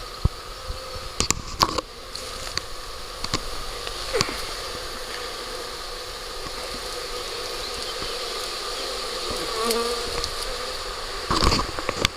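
A swarm of honey bees moves into a Warré hive outdoors, a continuous soft buzzing hum with individual bees whizzing loudly past close by now and then.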